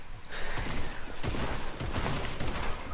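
Rapid bursts of video game gunfire crackle in a dense, continuous volley, moderately loud and with no voices over it.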